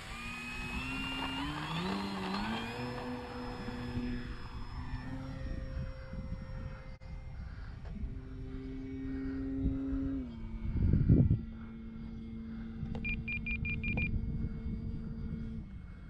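An FMS Pitts 1400mm V2 RC model biplane on a 6S setup spools up for takeoff, its electric motor whine rising and shifting in pitch, with a steady droning buzz and a brief louder rumble midway, heard fairly close throughout.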